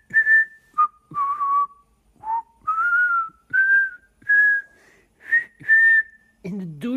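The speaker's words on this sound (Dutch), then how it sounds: "Hou je ook zo van fluiten?" A person whistles a melodic tune alone, a string of sustained, sliding notes in short phrases with brief pauses, close and clear, ending with a low vocal sound.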